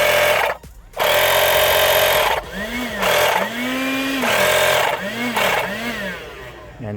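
A multifunctional car vacuum cleaner's pump motor whirs loudly and close, cutting out briefly near the start, then running in several bursts whose pitch rises and falls.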